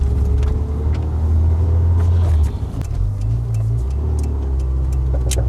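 Faulty CV joint on a Rover 820 giving off repeated sharp ticks over a loud, low engine and road rumble, the clicks coming in irregular bursts as the car moves slowly in traffic.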